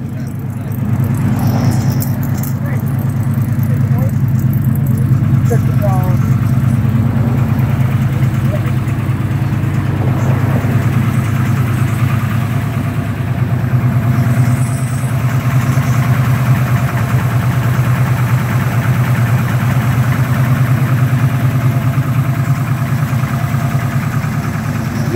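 A candy apple red 1987 Chevrolet Monte Carlo SS Aerocoupe on 24-inch Dublin wheels idles steadily with a low, continuous engine rumble, close by, with voices talking faintly over it.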